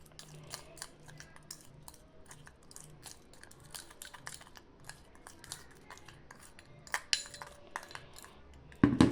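Wet flour dough being mixed by hand in a bowl, giving soft irregular squelching and scraping sounds with occasional clinks, fairly quiet and close, ending in a louder knock.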